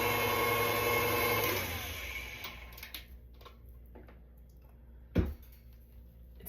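An electric mixer whirs steadily through chocolate cake batter for under two seconds, then winds down. Near-quiet follows, with faint ticks and one sharp thud.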